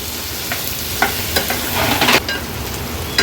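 Finely chopped onion frying in oil in a pan for a Marathi-style baby shrimp curry, with a constant loud sizzle. Several spatula scrapes and stirring knocks cut through the hiss, and no one speaks.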